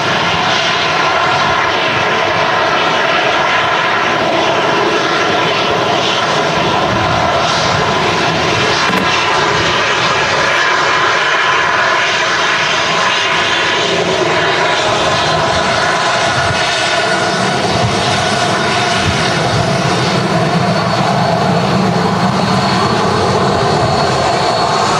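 Aircraft engines roar steadily at Manchester Airport, a loud, continuous broadband rumble and whine that swells and holds across the whole stretch with no talk over it.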